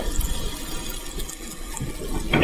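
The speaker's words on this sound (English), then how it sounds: "Trying to wash this spoon so I can use it to stab the egg and the plantain." A spoon rinsed under a running kitchen tap, with a steady broadband water splash throughout and a slight rise in loudness at the end.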